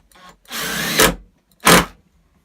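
A power drill drives a screw into a wooden workbench, with two close whirring bursts, the first longer and rising, the second short, separated by brief silence.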